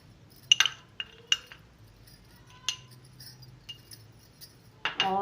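Small clinks and taps of a spoon against a cup as instant coffee is added in a home kitchen, several sharp ticks scattered over a quiet background, with a louder rattle at the end.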